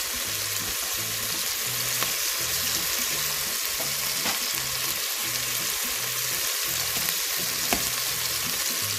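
Ginger and garlic fry in a hot pan with a steady, loud sizzle and crackle, broken by the scrape and clatter of stirring throughout.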